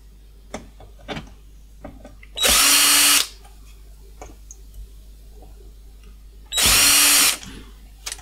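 An electric screwdriver or drill whirs in two short bursts while removing screws from a PS4 console, with quiet clicks and small handling taps between the loud spins.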